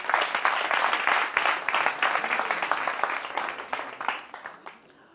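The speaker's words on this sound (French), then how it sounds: "On peut l'applaudir pendant qu'il arrive." Brisk, distinct hand claps from an audience at a French-language discussion event greet a participant as he walks up, starting full and thinning out toward the end.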